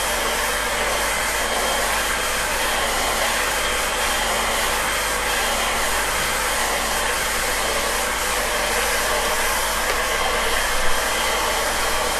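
A hair dryer blowing on wet watercolour paint, a steady loud broadband whoosh that runs unbroken for the whole stretch with no talking.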